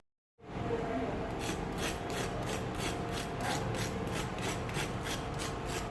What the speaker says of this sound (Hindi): ऊपर से बहुत ही ये क्रिस्पी बनते हैं, बहुत ही क्रंची बनते हैं। इनकी मैं आवाज़ आपको सुनाती हूँ